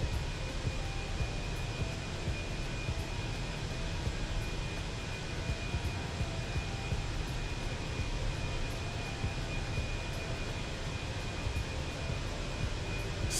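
A steady, broad roar from Airbus A320 jet engines during takeoff in Microsoft Flight Simulator holds at an even level throughout, with no voices over it.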